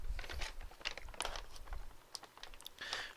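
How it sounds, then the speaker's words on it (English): Crunchy food is chewed close to the mic with quick irregular bites and crackles, all fairly quiet. "I couldn't even hear the movie over the sound of my own chewing."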